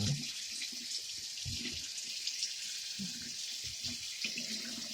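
Steady stream of tap water running over LJN WWF wrestling figures in a sink, a continuous hissing splash with soft irregular knocks and gurgles as the toys are rinsed, fairly close, with no talking.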